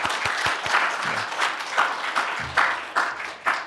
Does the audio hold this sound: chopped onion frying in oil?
no